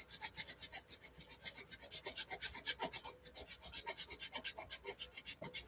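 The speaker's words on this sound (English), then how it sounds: "I'm just sanding it off" Sandpaper rubs lettering off a model railcar of a Kansas City Southern (KCS) car, with quick, even back-and-forth rasping strokes, close and alone, in a steady rhythm throughout.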